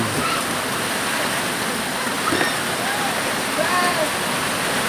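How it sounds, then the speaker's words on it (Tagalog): Steady dense rush of heavy rain, loud and continuous throughout, with faint scattered tones over the wash. "Malakas ang ulan."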